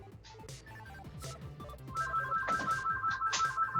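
Electronic telephone ringtone plays as a sound effect, a melodic series of short repeated tones that grows louder and denser halfway through, with no talking.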